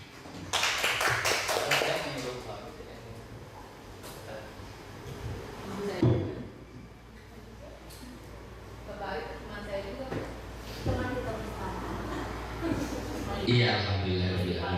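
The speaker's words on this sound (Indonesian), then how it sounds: "Tepuk tangan sekali lagi." An audience at an indoor teacher-training dissemination session applauds a presenter, a short burst of clapping near the start before talking takes over for the rest.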